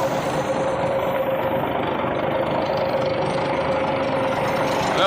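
1986 International 9670 cabover truck with a Big Cam Cummins diesel engine idling after its first start in years, a steady, close, rumbling idle with a faint whining tone and a slight knock.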